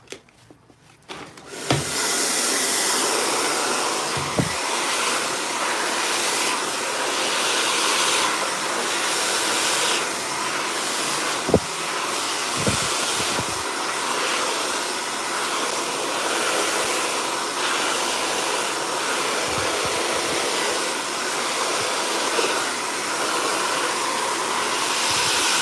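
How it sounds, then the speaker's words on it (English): A handheld blow dryer runs steadily for about twenty-five seconds as a loud, continuous whooshing roar, with a few faint clicks and knocks beneath it. "So you get both attachments with the blow dryer."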